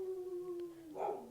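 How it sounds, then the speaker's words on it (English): Pet dogs howl indoors, a drawn-out wavering tone that slides slightly downward, followed by a brief brighter yelp near the end, fairly close and moderately loud, no talking. "Excuse me, my dogs."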